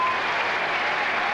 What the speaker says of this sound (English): the huge crowd on the lawn welcoming back this sensational colt